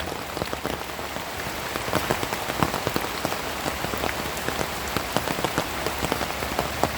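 Steady rain pattering on a surface while foraging in a forest in Yasothon, Thailand, dense crackling drops falling continuously at moderate volume, no voices.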